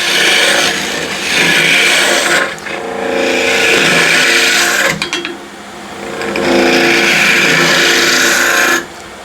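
A gouge hollowing wood on a lathe gives a loud, continuous scraping hiss in long passes, broken by brief pauses between cuts, with no talking.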